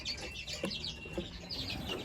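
Redpoll finches kept for breeding chirp and twitter in quick, overlapping high calls, with a few short lower clucks, steady and fairly soft throughout with no talking.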